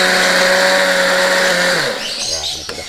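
A blender grinding bird feed for dove and lovebird chicks whirs loudly at steady high speed, then winds down as the motor slows and stops.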